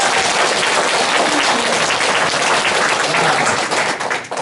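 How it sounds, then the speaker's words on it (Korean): A temple congregation at a Buddhist service claps together in a dense, steady burst of applause, loud and close, fading slightly at the very end. "2분을 위하여 박수"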